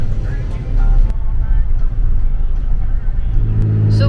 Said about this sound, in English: That's our pilot car.